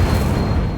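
Incendio fire spell cast with a wand in Hogwarts Legacy, a short, loud whooshing burst with a low rumbling boom that fills the whole moment, no voices on top.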